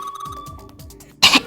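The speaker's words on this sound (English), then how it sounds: "Damn, she's coughing so hard she can't even talk." A short, harsh burst of coughing from Clover, a female character in the video game 999: Nine Hours, Nine Persons, Nine Doors, after smoke exposure, loud and abrupt at the end, following quiet beeping game tones and music.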